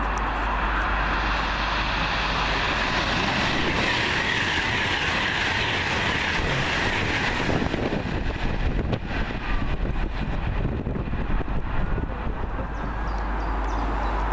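Late-running 1A37 passenger train from Liverpool Lime Street to London Euston passes at Cheddington, a steady loud rush of wheels and rail noise building toward the end with rhythmic clatter, no voices.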